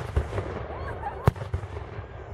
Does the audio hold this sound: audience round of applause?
no